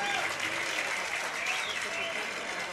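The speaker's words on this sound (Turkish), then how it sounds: "Yok mu alkış bunlara?" Dense applause from a crowd at a celebration, continuous clapping that stays steady and fairly loud through the whole moment.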